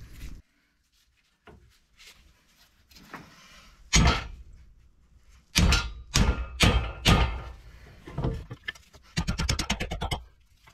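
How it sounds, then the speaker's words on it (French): A hammer strikes a socket to drive out a silent block bushing on a car suspension, delivering several loud, sharp metallic blows in irregular bursts, ending in a rapid flurry of hits, with quieter shuffling between them. "on va essayer déjà au marteau et avec une douille"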